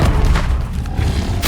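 Expelliarmus spell cast in the Hogwarts Legacy video game: a dense, booming magical blast that rumbles steadily, then surges again at the end, with no talk over it.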